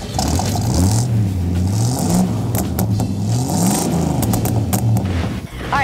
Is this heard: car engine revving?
yes